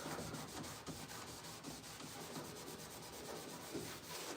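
A Scotch-Brite abrasive pad scrubs old blue paint off a 56-year-old surface in steady, close strokes, giving a continuous gritty rubbing with a regular back-and-forth rhythm and no voices.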